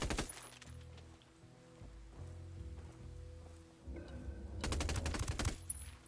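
Automatic and rifle gunfire in the open-world shooter Ghost Recon Wildlands, bursts of rapid fire at the start and a heavy sustained volley near the end over faint game background noise.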